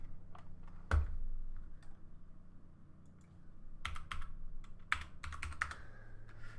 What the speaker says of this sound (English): Oh, my keyboard's broken, that's why. Oh no, I can't even type.